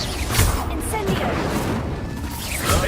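The Incendio fire spell from the video game Hogwarts Legacy bursts out as a dense, loud rushing roar with booming crackle, mixed with other combat effects and a voice.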